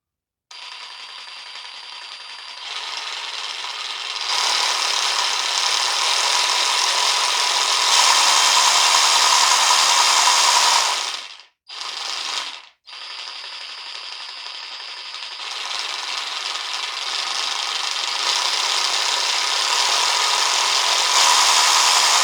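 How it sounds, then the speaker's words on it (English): An Evolution 18V R150RCP cordless reciprocating saw buzzes steadily and loudly as it cuts wood, its pitch rising and falling with variable trigger speed, pausing briefly near the end before resuming. "It's fairly noisy, but it's a saw. It's going to be noisy."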